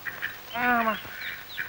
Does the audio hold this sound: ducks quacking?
yes